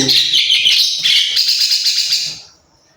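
A pet myna bird calling close and loud, with a run of bright, shrill chirps and whistles that ends abruptly into silence.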